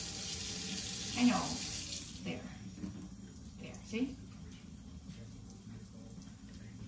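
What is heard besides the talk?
water running from sink tap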